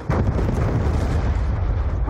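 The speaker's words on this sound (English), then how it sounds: "Hellstorm missile inbound." A Hellstorm missile strike in Black Ops II multiplayer, a loud, deep, rumbling blast that fills the whole short stretch without letting up.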